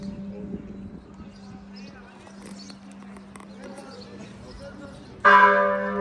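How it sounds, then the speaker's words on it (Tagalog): A church bell rings outside in Georgia, a sudden loud resonant strike near the end after a stretch of quiet outdoor ambience with a low hum and faint clatter and footsteps. "Kasi first time ko nakarinig ng ganong tunog ng bell outside the country."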